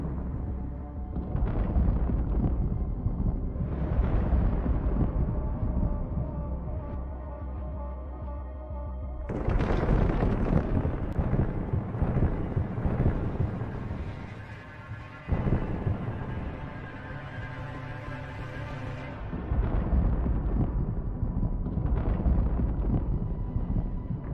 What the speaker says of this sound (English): The struck Buratino resembles a searing fireball, exploding and releasing fiery shrapnel all around.